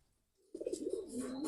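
Racing pigeon cooing during a race-training session, a soft burst of repeated low coos starting after a brief silence and continuing steadily, fairly close, with no talk.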